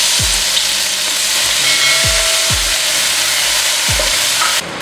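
Chili paste sizzles loudly in hot vegetable oil in a pan for a pork and basil stir-fry, a steady close frying hiss with a few soft knocks from stirring.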